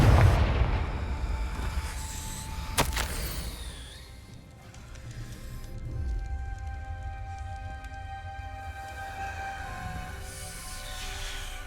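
Confringo spell explosion in the game Hogwarts Legacy, an opening low boom and sharp crack followed by a rumbling, resonant tail and lingering magical tones.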